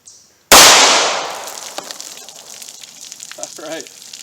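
A .38 Special revolver with a short barrel fires one loud FMJ round into a test pack: a single sudden blast that decays over about a second into a hissy ring, followed by faint clinks and small sounds.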